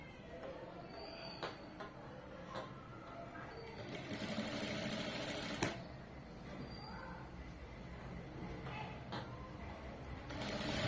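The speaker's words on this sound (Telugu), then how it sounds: "దాన్ని నీట్గా ఇలా స్టిచ్ చేసుకుంటూ వెళ్ళిపోవాలి" A sewing machine stitches piping onto a star-shaped neckline, running in a steady close mechanical whir with brief speed changes and light clicks, and a voice talks softly in places.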